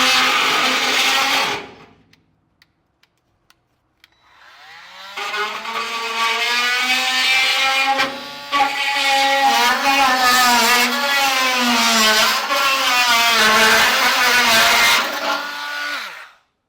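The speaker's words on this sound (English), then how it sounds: "I'm just going to use a multi-tool." An oscillating multi-tool slices across the hat channel of a 2023 Chevrolet Silverado truck bed, cutting metal with a loud, steady buzz that wavers in pitch. A short burst opens it, then a brief pause with faint ticks, then a long continuous run.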